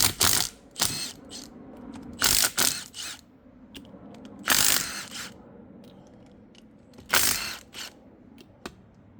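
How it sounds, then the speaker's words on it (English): Ratchet loosening 14 mm differential cover bolts on an Infiniti G37/G35/Q40, several short bursts of rapid clicking separated by quieter pauses with faint handling noise, close-up. "now let's remove these bolts, 14 mil"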